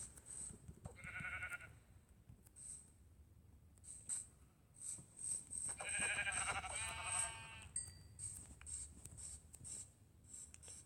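Sheep in the Minecraft video game bleat several times, with short nasal cries repeated in quick bursts against a soft, scratchy background and no talking.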